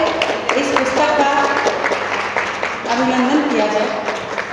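Applause from an audience at a book launch ceremony, a steady wash of clapping that rolls on throughout while a voice speaks over it.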